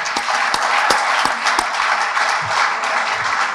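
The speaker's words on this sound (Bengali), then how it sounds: "ওদের জন্য একটা জোরে করতালি।" A crowd gives a steady burst of applause for the women's football team, with dense continuous clapping and no speech.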